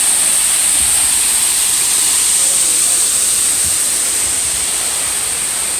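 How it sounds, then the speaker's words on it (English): Waterfall at Dogwood Canyon Nature Park: a loud, steady roaring rush of falling water that fills the whole clip, constant and close, with no clear voices standing out. "looking at a waterfall."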